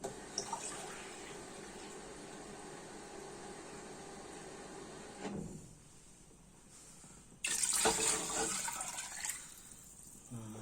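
Water pouring from a tap over calves' feet in a pot, a steady stream that stops briefly midway, then surges back more strongly before easing off, close up with no talking.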